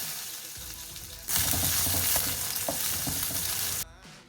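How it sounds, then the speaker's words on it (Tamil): Small onions hit hot oil with mustard seeds, urad dal and cumin, bursting into a sudden loud sizzle that holds steady with stirring taps before cutting off abruptly. "கடுகு, உளுந்து, சீரகம், அப்புறம் சின்ன வெங்காயம் போட்டு நல்லா வணக்கிடலாங்க"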